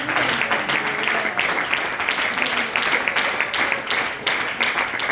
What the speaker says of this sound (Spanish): Denle palmas a Dios.